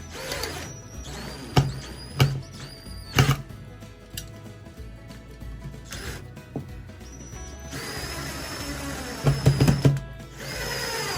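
A drill drives a steel screw into turned wood to pre-thread holes for brass screws, sounding in several short whirring bursts with brief pauses and light handling clatter between them.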